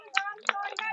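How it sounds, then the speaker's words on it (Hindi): A few sharp hand claps ring out one by one, close by, under a voice speaking Hindi at a village gathering. "ताली बजा दो"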